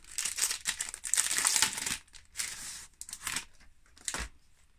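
Unwrapping a Fix Price packaged item, its wrapping crinkled and torn in several bursts of crackling rustle, loud and close, with short pauses between.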